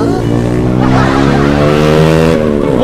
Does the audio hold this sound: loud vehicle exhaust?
yes